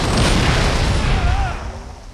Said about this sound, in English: Robert, look out, grenade.